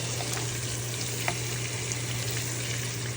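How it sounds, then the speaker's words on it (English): Fish sizzles steadily in hot oil in a pan, a constant crackling hiss with small pops, close by and with a low hum underneath. "so we are here frying the fish"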